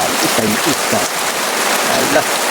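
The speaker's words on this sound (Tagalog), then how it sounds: "Ang lakas ng ulan" Steady, dense heavy rain from a typhoon roaring throughout with a voice talking over it.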